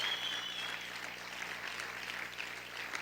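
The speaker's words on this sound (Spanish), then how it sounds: "Aplaude fuerte a tu Dios." A church congregation applauds during a sermon with a steady, dense wash of clapping that stays quiet and even throughout, with no voices over it.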